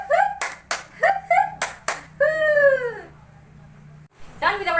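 A class does a group cheer clap in a classroom: a few loud, sharp claps mixed with drawn-out sung voices, then a brief quiet before more voices.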